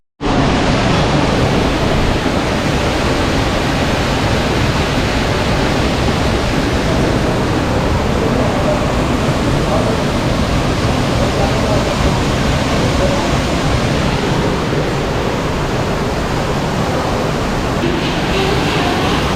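Kondeshwar waterfall near Badlapur roars steadily and loudly up close, a dense unbroken wash of falling water filling the whole stretch without a pause and with no voices.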